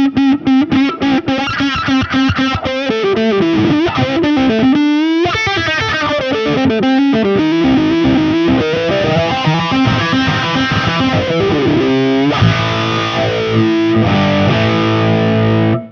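Electric guitar played through a Chi-Wah-Wah wah and distortion pedal with the gain raised, gritty sweeping notes and chords with shifting vocal-like filter sweeps, loud and alone.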